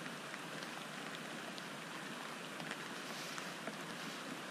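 Steady rain falls beside a rocky brook in the Newfoundland wilderness, an even, unbroken hiss of drops on surfaces that holds at a constant level throughout.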